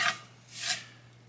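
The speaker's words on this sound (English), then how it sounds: "spatula scrapes this cast iron skillet" A spatula scrapes a cast iron skillet during caramel making for an apple baby: two short, faint, close scrapes with a quiet pause between them.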